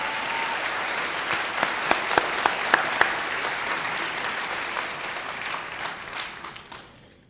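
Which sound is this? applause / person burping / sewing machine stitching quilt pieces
applause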